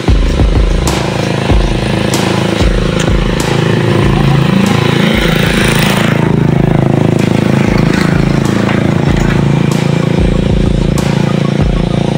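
A Honda motorcycle engine runs steadily up close, a low continuous rumble with occasional clatter, while voices talk over it.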